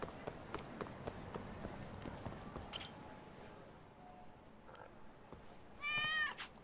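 A cat meows twice in the Lost Judgment video game, one short call and then a louder, drawn-out meow near the end, over soft game ambience and light tapping footsteps.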